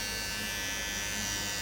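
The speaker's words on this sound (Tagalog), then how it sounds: "So ito yung lady shaver." A Hodekt 4-in-1 electric lady shaver and epilator runs with a steady, even high-pitched buzz, close and continuous, with no talking.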